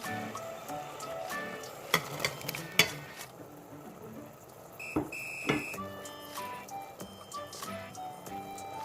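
Lemongrass and kaffir lime leaves go into a pot of thick seafood tom yum, with sharp clinks of utensils against the pot and light stirring over a low cooking hiss.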